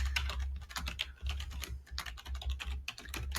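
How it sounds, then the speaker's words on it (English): Quick typing on a computer keyboard, a dense, close stream of light key clicks with short pauses between bursts, heard on its own with no speech. "I'm just going to type a little title here."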